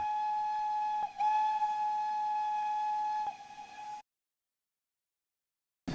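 A steam locomotive whistle blows two long, steady shrill blasts, broken by a brief gap, with a hiss underneath, then falls silent.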